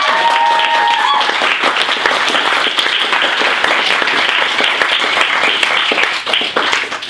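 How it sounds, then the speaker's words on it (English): An audience bursts into a round of applause, dense continuous clapping from many hands that holds steady for several seconds before tapering slightly at the end. "Round of applause for that pure."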